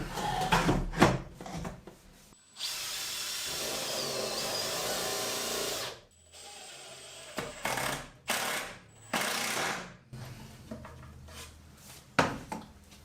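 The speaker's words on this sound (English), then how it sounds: "Now I'll screw it in that side to the cabinet." Screwing a piece into a wooden cabinet, heard as close bursts of a power driver whirring, one long steady run and several shorter ones, mixed with knocks and rubbing of wood.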